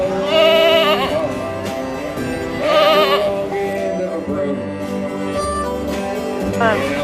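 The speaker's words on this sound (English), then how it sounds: "And what type of goat is that? That's a Nigerian dwarf." A Nigerian dwarf goat bleats loudly and close by, with long wavering calls repeating several times, alongside other quieter bleats.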